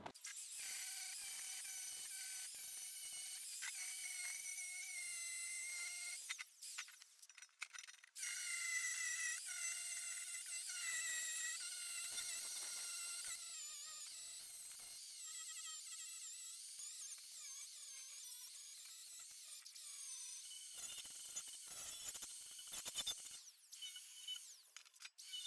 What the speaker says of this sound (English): I'm going to hit this with a 60 grit flap disc to just round over these corners